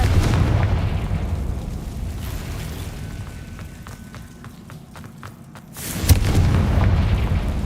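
A Confringo fire spell in Hogwarts Legacy lands as a deep, rumbling blast, its boom decaying into a low roar, followed by a row of small ticking debris clicks and then a second heavy explosion.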